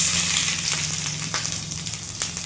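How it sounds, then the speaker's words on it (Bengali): Onion hits hot oil in a pan, giving a bright, continuous sizzle with crackling spits, close and loud, fading slightly over a couple of seconds with no talking. "তেলটা গরম হয়ে গেছে, এবার পেঁয়াজটা দিয়ে দেবো।"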